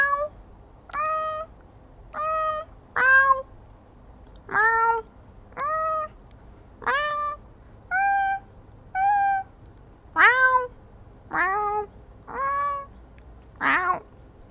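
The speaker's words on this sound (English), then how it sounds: "Meows for you. Meows for you." A run of about a dozen clear cat meows plays as stream alerts, each short rising-and-falling call evenly spaced about a second apart, loud and close with nothing else underneath.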